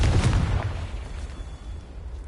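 A Confringo fire spell from the Hogwarts Legacy video game bursts in a loud, low booming blast that rolls off into a fading rumble, with no voices over it.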